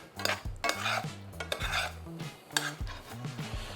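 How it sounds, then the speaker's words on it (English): Mushrooms tossed in oil in a pan: close, clattering knocks and scrapes of utensil on metal in quick irregular bursts, with no speech. "Just give that a toss. Just so that the mushrooms are evenly coated in the oil."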